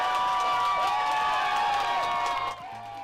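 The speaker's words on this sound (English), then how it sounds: "The gang at the Perlin Centre in St. John's cheering a big win today." Crowd at the Perlin Centre in St. John's cheering and whooping over a big win, a dense, loud burst of voices with children shouting, easing off slightly near the end.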